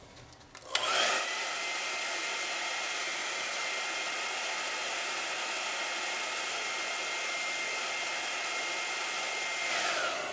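A hair dryer switches on and blows a loud, steady whooshing stream over wet acrylic paint on an Old Boots canvas, running continuously with no talk.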